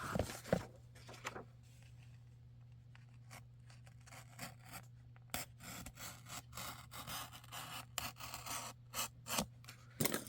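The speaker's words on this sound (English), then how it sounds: "I'm going to just cut into it." A blade cuts into a book page with a series of quiet, close scratching and slicing strokes, irregular and sharp, over a faint steady hum.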